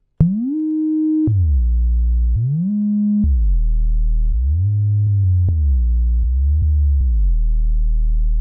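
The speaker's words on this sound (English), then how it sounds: "We can actually go in and change the number of voices on this sine wave" Synth sine tones holding steady pitches in a stepping sequence, each note thick and layered like several voices stacked together, loud and continuous.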